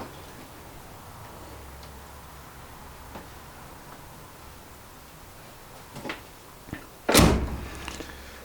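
The passenger door of a 1970 Morris Minor with a stiff, little-used latch shuts with one firm, loud slam near the end, after a few faint clicks and handling noises in a quiet setting.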